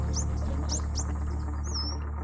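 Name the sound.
birds calling in a garden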